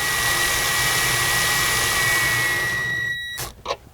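A rivnut tool compresses a rivnut insert into sheet metal on a Land Cruiser rear window panel, a steady loud whirring drone with a high whine that cuts off abruptly, followed by a couple of short clanks.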